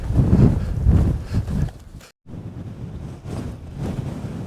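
Strong gusts of wind roar and buffet the microphone on an exposed mountainside in the early morning, loud and close, rising and falling in uneven surges with one brief dropout.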